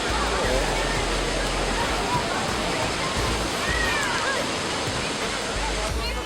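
Niagara Falls roars in a steady, dense wash of broadband water noise, loud and unbroken throughout.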